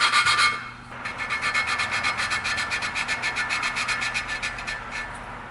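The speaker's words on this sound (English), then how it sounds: "the more that you grind this valve, the less it's going to take" Rhythmic rasping of a valve being lapped by hand in the cylinder head of a 1995 Kawasaki KLX250 motorcycle, steady back-and-forth grinding strokes repeating evenly, close and moderately loud with no talk.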